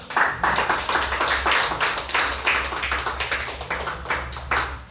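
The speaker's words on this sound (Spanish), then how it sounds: "Dale palmas a Cristo." Church congregation clapping hands in a rhythmic, steady beat during a sermon on prayer, many hands striking together in regular pulses with a low hum beneath, close and fairly loud.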